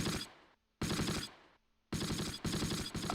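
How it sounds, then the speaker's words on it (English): Close Combat wartime battle with bursts of loud machine-gun fire: three long rattling volleys, each cutting off sharply, separated by brief near-silent gaps with a faint hum. "I hear shots right."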